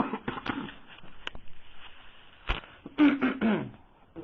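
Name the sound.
cough and throat clearing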